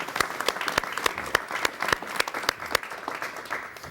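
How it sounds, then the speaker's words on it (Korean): A TV studio audience claps for a mountaineer who climbed Everest, sparse distinct hand claps at first that thicken into a fuller round before fading slightly toward the end. "여러분 박수를 부탁드리겠습니다"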